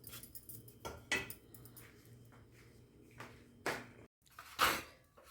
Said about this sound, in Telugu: స్పూన్ పెట్టి కలుపుకోవచ్చు.